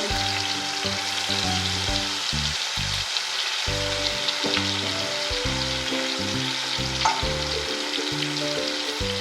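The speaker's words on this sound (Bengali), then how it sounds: "এখানে লঙ্কা আর আদা খুব ভালো করে আমি এটাকে নাড়বো" Chillies and ginger fry in a pan while being stirred, a steady close sizzle with soft scraping stirs and no voices.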